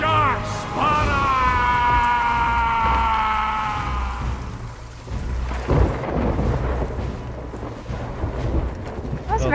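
Thunderstorm in the pirate game Sea of Thieves: low rumbling thunder and rain noise under a sustained tonal musical or vocal sound that fades, followed by further rough rumbles and crackles.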